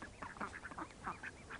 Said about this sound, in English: ducks are real fun to watch, and their families and the way they cohabitate with each other